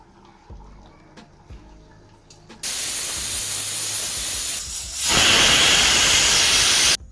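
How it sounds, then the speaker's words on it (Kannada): Loud, steady steam hiss bursts in after a few quiet seconds, briefly dips, then returns even stronger and keeps blasting, a pressure cooker whistling while cooking mutton biryani. "ಇವಾಗ 2 ವಿಷಲ್ ಕೂಗಿಸ್ಕೊಂಡಿದ್ದೀನಿ"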